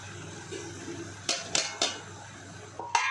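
Spices are stirred into frying onions in a pan for a Kathiyawadi whole-onion curry. A few quick utensil clinks and scrapes against the metal pan rise over a steady low background hum.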